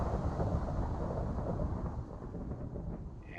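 A severe thunderstorm in modded Minecraft rumbles with heavy, low thunder that rolls on steadily and slowly eases, with faint rain beneath and no talking.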